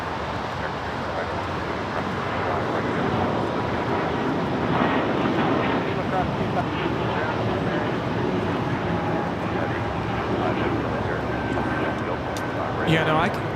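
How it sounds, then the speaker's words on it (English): Porter Airlines Embraer E2 jet taking off from the south side at Los Angeles International, a sustained broadband engine rush holding steady across the whole stretch, with a voice speaking over it. "Dua Porter of the E2 taking off here on the south side"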